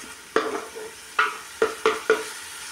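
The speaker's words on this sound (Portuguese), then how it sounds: "E aí a gente dá uma refogadazinha" Seasoning sautés in a pot as the base for a crab broth, five sharp stirring scrapes over a steady soft sizzle, close and with no talk.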